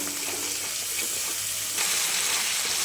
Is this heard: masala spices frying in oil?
yes